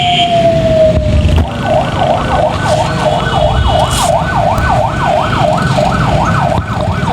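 A police car siren wails, sweeping up and down steadily over loud traffic rumble, staying prominent throughout as the car moves along the road.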